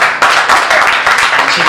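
An audience at an open mic poetry and music event in Bhopal claps in a brief, steady burst of applause that is loud and close.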